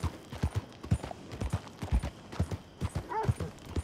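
Horse hooves clip-clop in a steady rhythmic gait on hard ground in Saint Denis in the video game Red Dead Redemption 2, fairly close, with a brief voice-like sound near the end.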